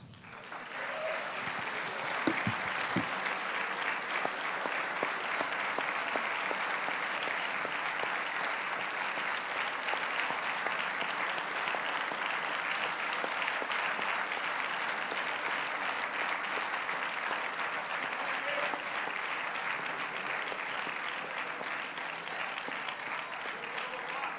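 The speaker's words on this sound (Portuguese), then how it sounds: "Vamos aplaudir Jesus." A church congregation applauds at a Brazilian Pentecostal service, with steady, dense clapping that holds at an even level for about twenty-four seconds.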